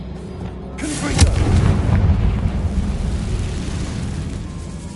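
A Confringo fire spell blasts in Hogwarts Legacy, a loud booming explosion that swells quickly and then rolls into a long rumbling decay, with no voices over it.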